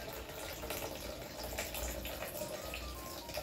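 Water streaming steadily from a Sawyer Squeeze portable filter, a continuous close trickling and splashing that holds a constant level throughout, with no voices.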